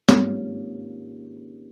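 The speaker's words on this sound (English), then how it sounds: "So I'm hitting the soundboard and then allowing the strings to vibrate." A piano soundboard is struck once with a sharp percussive thud, and the strings keep resonating in a low, sustained hum that fades slowly, close and alone with no talk.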